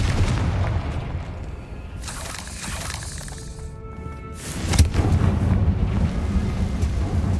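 A Confringo fire spell bursts in Hogwarts Legacy, a loud, roaring blast with crackling debris over a steady windy rumble.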